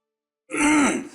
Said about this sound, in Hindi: इसीलिए बिना वक्त आ जाती है खांसी